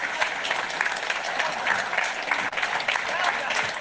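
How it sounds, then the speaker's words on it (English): Steady, dense applause from a seated retiree audience in Toronto for Conservative Party leader Pierre Poilievre, Leader of the Opposition, filling the room evenly with no voices on top. "How about one more round of applause for the Leader of the Opposition, the Conservative Party leader."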